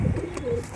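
A pigeon gives a short, close, soft coo, a single low throaty call lasting under a second, with no talking.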